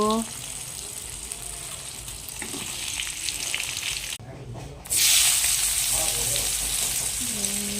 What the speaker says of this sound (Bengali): এই মাছ ভাজছি